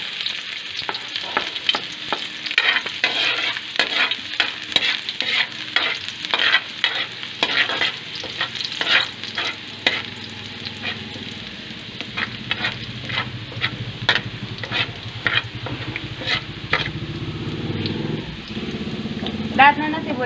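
Garlic sizzles in a pan while a utensil stirs and scrapes it in quick repeated strokes, a steady close frying hiss running under intermittent talking as other ingredients are readied for spaghetti.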